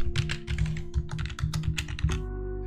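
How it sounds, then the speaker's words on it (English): A password typed on a computer keyboard while setting up an Azure SQL database: a quick run of close, crisp key clicks over a steady electrical hum, stopping just before the end. "Let's type in a password"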